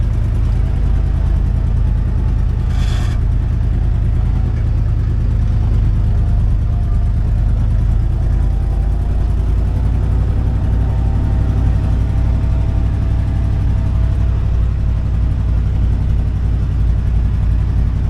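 An old, free truck with sticking brakes drives along, its engine a loud, steady low rumble that runs unbroken throughout, with no talk over it.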